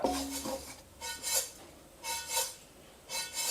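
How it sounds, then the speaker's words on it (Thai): White and black sesame seeds toasting in a pan over medium heat, stirred in soft rhythmic bursts of dry rustling and scraping, close and quiet, with a brief clink at the start. "หลังจากที่ทอดขนมเสร็จก็ตั้งกระทะคั่วงาครับ"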